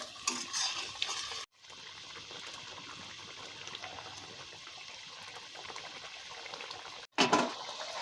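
Rohu fish curry with yogurt simmering in a pot on the stove: a steady, close bubbling hiss that cuts out briefly twice, with a louder burst of stirring near the end.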